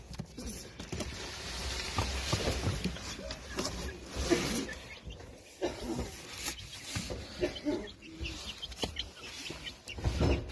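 Hens clucking in a chicken hutch, soft close-up clucks and murmurs scattered through quiet background rustling.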